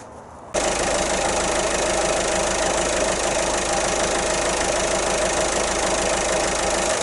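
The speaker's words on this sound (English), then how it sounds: "run the engine for a minute or so just to let it fill up the cartridge" A Mini Cooper D (R55/R56) diesel engine idles steadily and close by with a knocking, rattling rhythm that starts abruptly and continues evenly.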